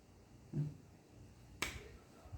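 A single sharp, dry snap rings out in a quiet room during a Buddhist lecture on the Mahayana text Awakening of Faith. A soft low thump comes a moment before it.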